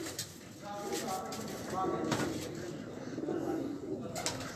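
Racing pigeons just back from a competition coo softly in their loft, low repeated coos at moderate distance while a person talks over them.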